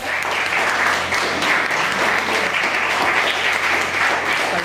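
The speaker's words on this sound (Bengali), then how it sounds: "একটু হাততালি চাইবো সবার থেকে" An audience at a stage event claps continuously, a dense, steady wave of applause that holds at an even level from start to finish.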